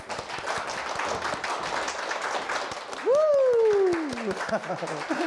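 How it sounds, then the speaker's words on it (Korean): Studio audience applause welcoming two guest professors on a Korean TV parenting talk show. Steady clapping comes up under a host's voice, and a sweeping musical tone briefly joins it. "차상진, 하태욱 교수님 힘찬 박수로 모시겠습니다."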